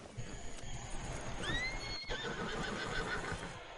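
A horse in a video game gives a single clear whinny that rises and falls, over a steady bed of hoof clip-clops and ambient game noise.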